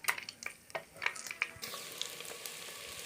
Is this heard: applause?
no